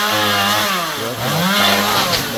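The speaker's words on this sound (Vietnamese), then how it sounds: "Chúng mình bắt đầu cưa" A chainsaw revs and bites into a coconut or jackfruit tree, a loud, close, continuous snarl with the pitch dipping and rising as the chain loads up in the wood.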